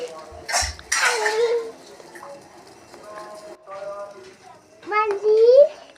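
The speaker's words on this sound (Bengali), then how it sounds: "আমি বারবার করে নাড়ছি যার কারণে লেগে না যায়।" A spoon stirs Maggi noodles in a pot of water on the stove, giving light scrapes and clinks of metal on the pot. Someone talks clearly over the stirring.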